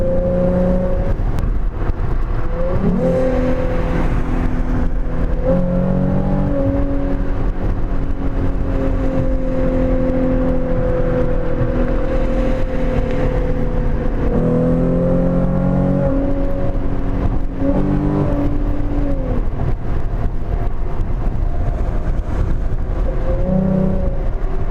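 Catless V6 Ford Mustang accelerating hard from a roll, engine note climbing through gear changes in two long pulls, loud and close from inside the cabin with steady road and wind roar.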